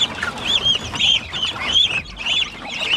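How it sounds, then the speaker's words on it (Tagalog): Geese and ducks penned together at night on a farm give loud, close, overlapping honks and quacks in repeated bursts, with no talking. "dito po namin nilagay yung ating mga gansa"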